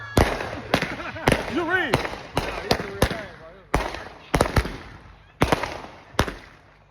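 Fireworks and firecrackers going off outdoors, a string of sharp, loud cracks and bangs at irregular intervals, some with whistling streaks, while someone talks over them.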